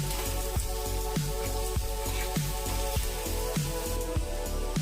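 Onions sauté in a pan for a coconut-free chicken curry, a continuous close sizzle broken by regular, evenly spaced metallic scrapes of stirring.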